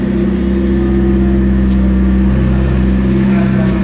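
McLaren 720S supercar engine driving past, a loud, steady low droning rumble with strong harmonic tones that hold evenly through the whole stretch.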